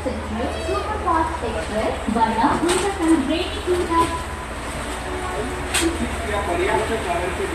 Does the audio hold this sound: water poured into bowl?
no